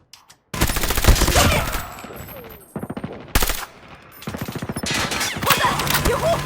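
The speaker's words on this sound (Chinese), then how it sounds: "已部署哨电机枪。" Sentry machine gun firing in a video game match: rapid, loud automatic bursts in several stretches, broken by short pauses and a sharp single blast, with no talk over it.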